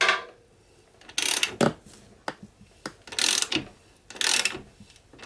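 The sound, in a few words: tightening the rear wheel chain adjuster on a Honda 125 MTX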